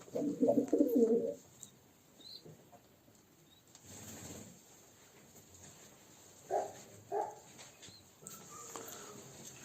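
Kept pigeons coo softly in short low bursts, a louder run at the start and a couple of brief calls later, with faint wing flutter amid quiet background.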